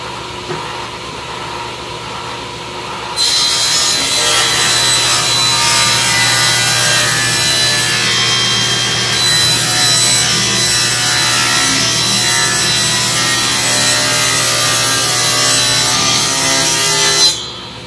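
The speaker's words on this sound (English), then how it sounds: "Sandpaper." Live edge wood is sanded with sandpaper, starting after a quiet few seconds. A loud, steady, close-up scratching rasp then holds almost without a break to the end.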